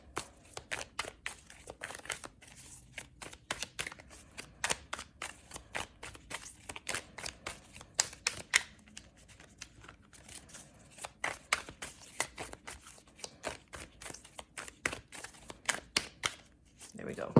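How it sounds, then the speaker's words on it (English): Tarot cards are shuffled repeatedly up close, with crisp rapid riffles and flicks in irregular bursts, faint pauses between them. "Just going to shuffle a few more times here."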